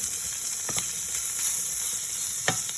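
Sausage browns in hot grease in a pot for baby lima beans, giving a steady bright sizzle with a few louder pops and the clatter of stirring, close up with no talk.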